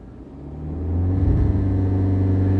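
A 2017 BMW 530i with a four-cylinder turbo engine accelerating hard in sport mode, its engine note rising in pitch and loudness from a low hum to a strong, steady drone heard from inside the car.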